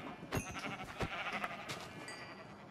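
Sheep bleating in the Minecraft video game, several short synthetic bleats in quick succession over a steady background of game ambience, fairly close and moderately loud.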